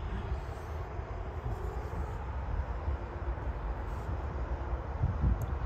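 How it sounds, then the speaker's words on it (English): A train approaching on a railway in Burlington, Ontario: a steady low rumble, fairly faint and constant throughout, with no voices. "Oh, it's a train."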